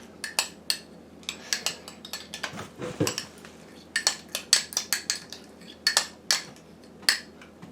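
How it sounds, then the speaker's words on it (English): Food being dumped into a dish and stirred with a utensil, a series of sharp metallic clinks and scrapes against the bowl in irregular bursts, close and clear with no talking. "I'll stir it in just a little bit"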